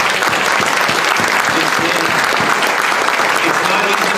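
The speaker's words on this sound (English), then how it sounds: "Let's give them a round of applause" A town hall meeting audience applauds the Tampa Police Department, loud continuous clapping and cheering filling the room evenly, with voices mixed into the crowd noise.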